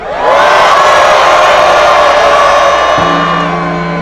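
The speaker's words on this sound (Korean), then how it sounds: "다 같이 함성 한번 시작!" A large crowd shouts a sustained cheer together outdoors in falling snow at a New Year's Eve bell-ringing ceremony in Daegu's 2.28 Park, loud and continuous, with a low tonal hum entering near the end.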